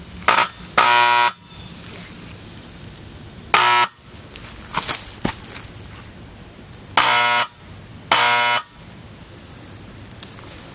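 A harsh electric buzzing from a freshly rewound Model 2 siren sounds in four short bursts, two close together at the start and two later, over a low background hum.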